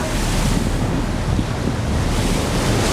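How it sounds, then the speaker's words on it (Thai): Atlantic Ocean waves roll off the North Carolina coast in a steady, loud wash of surf, mixed with heavy wind buffeting the microphone, with no break. "นี่เป็นมหาสมุทร แอตแลนติก"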